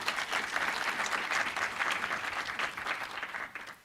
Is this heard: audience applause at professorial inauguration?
yes